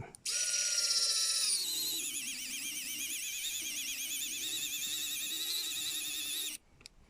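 A screwdriver drives screws into a Terminator T-800 endoskeleton model kit, giving a close, continuous whirring whine that holds for about six seconds before cutting off.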